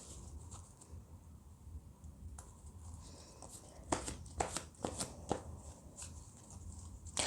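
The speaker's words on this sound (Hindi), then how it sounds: "कार्ड्स गिर रहे हैं तो वो आपको देखना है।" Oracle cards riffle and slap down in a quick burst of crisp shuffling, with several sharp card drops clustered near the end over a low background hum.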